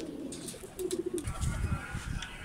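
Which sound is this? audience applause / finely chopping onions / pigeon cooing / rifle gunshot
pigeon cooing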